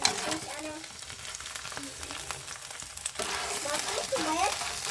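Katang crabs dry-roasting in a pan in a hut kitchen give a steady crackling sizzle, with rattling stirring and scraping throughout and brief voices underneath.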